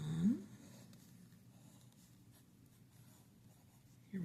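A mechanical pencil loaded with 0.3 mm lead scratches across paper in a faint, steady rasp, close and quiet, with a brief louder stroke at the start and the end.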